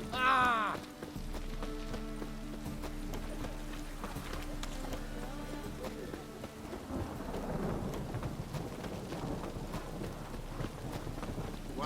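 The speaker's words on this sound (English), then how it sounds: "Rain doesn't bother you." Rain falls steadily with deep thunder rumbling beneath it in The Witcher 3, while horse hooves clop and musical tones play over the storm.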